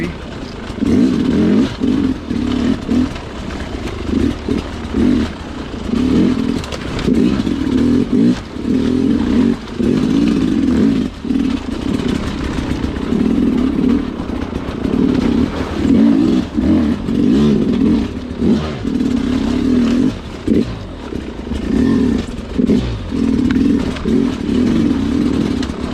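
A Sherco dirt bike engine runs steadily on a rough off-road trail, its loud, close, unbroken drone pulsing with throttle changes and mixed with clattering and scraping, with no talk.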